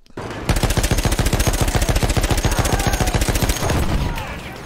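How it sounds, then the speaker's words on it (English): Rapid automatic gunfire in the Battlefield One video game: a loud, continuous burst of fast, evenly spaced shots lasting several seconds before stopping abruptly. "I was just shooting."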